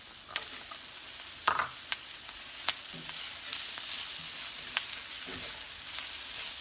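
Mixed vegetables and carrots sautéing in a pan for a frittata, a gentle continuous sizzle punctuated by several sharp spatula taps and scrapes as they are stirred, with no talking.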